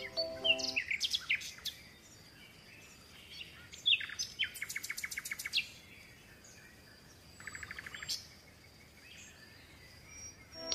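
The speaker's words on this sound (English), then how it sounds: "P for parrot." Parrot chirping as a sound effect for a children's alphabet and counting lesson: bright, high tweets and rapid trills in several bursts, fairly close and alone, with no voices.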